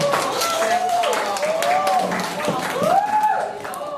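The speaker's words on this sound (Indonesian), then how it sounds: "Tepuk tangan untuk kita semuanya." Applause and clapping from a crowd at a school event at MA Al Ghozali Kebonbatur Mranggen, a dense patter of claps lasting a few seconds with cheering voices and a whistling tone over it.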